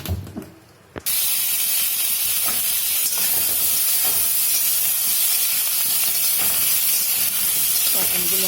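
Pointed gourd pieces frying in a pan for a vegetarian rice-and-potol dish, a loud steady sizzle bursting in after a second of quiet stirring and continuing alone with faint stirring scrapes.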